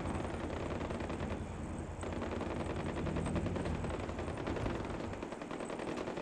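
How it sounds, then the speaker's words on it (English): Dense, continuous rapid gunfire from the video game Far Cry 4 rattles on without pause, a loud sustained barrage of automatic shots. "like gunfire and shit going on?"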